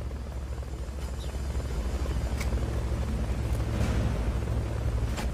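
Helicopter in the game Metal Gear Solid Peace Walker, a steady loud rotor drone with low thumping, continuous and close, slowly growing a little louder.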